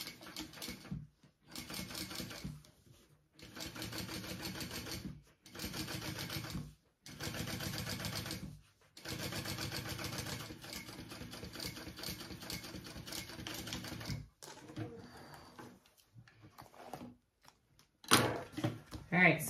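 Sewing machine top stitching a bag along a black top piece, running in a series of steady buzzing bursts separated by short pauses, fairly close and even, with a voice talking at times.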